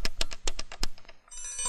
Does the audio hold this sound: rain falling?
no